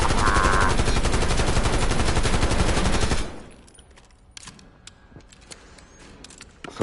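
An XMG light machine gun in Black Ops 6 fires a loud, rapid sustained burst for about three seconds, then stops, leaving quiet mechanical clicks and rattles.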